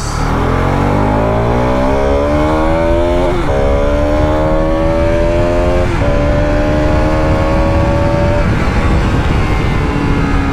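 A Bajaj Pulsar RS 200 motorcycle engine revs loudly and continuously, its pitch climbing in repeated rising sweeps as it accelerates, close and steady throughout.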